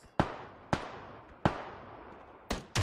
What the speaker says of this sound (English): More gunfire coming from that general direction.